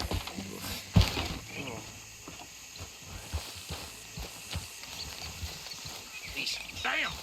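Horse-drawn wagon in Red Dead Redemption 2, hooves clip-clopping with faint creaks of wheels and harness under ongoing conversation between characters.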